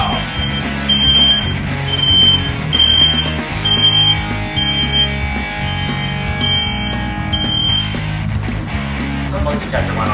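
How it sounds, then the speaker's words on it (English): A smoke detector goes off during baking of cookies in a home kitchen, its loud piercing beeps coming in short repeated bursts roughly every second over a low background hum. "Smoke detector went off again."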